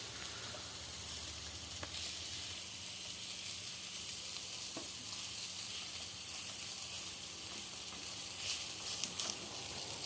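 Koi fish sizzling steadily as it fries in a pan, coated in a ground chilli paste, with a constant close hiss and no talk.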